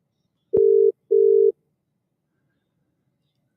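Steady single-pitch telephone dialing tones in two short bursts close together, then a third beginning at the very end, each clean and moderately loud against silence with no talking.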